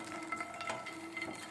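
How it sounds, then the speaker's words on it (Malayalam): Makhana fox nuts roast in a pan with soft clattering and light scraping, quiet, close and continuous. "ഈ മഖന വെച്ചിട്ടുള്ള ഒരു ചാറ്റാണ് നമ്മളുടെ വീഡിയോ. അതിനായി നമ്മൾ ആദ്യം ഈ മഖന ഒന്ന് വറുത്തെടുക്കാം"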